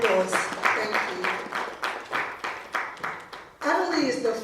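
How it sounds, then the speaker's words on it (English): A panel audience at a women's tech event applauds a speaker who founded a women's development organisation, with steady pulses of clapping that swell, dip and then surge again near the end, voices mixed in with the applause. "Give her a round of applause."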